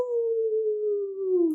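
A single sustained, smooth howl from a person imitating a werewolf, slowly falling in pitch over more than a second and heard clearly and alone.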